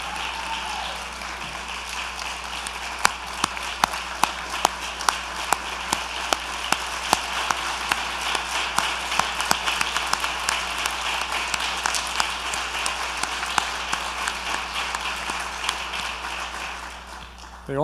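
Audience in a lecture hall applauds scholars of social justice with a sustained round of clapping, sharp individual claps standing out over a steady patter, moderately distant and lasting most of the stretch.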